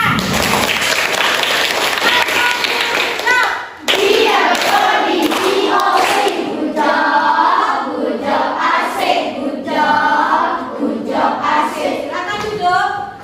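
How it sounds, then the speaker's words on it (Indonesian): A classroom full of students claps and cheers, with lively children's voices shouting over the clapping after a brief pause near the start. "Kasih tepuk tangan untuk Sidan."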